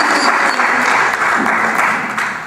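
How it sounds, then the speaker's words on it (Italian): A poetry festival audience in an Italian cloister gives the poets a round of applause, brief, close and lively clapping that fills the short moment without pause. "Un applauso."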